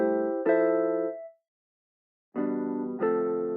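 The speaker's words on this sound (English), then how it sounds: "the Omnisphere is playing, and for the Omnisphere I'm using jazz guitar pick A," An Omnisphere jazz guitar pick A synth patch plays bright, layered chords, two at first, then a pause, then two more struck in quick succession, heard alone with no voice.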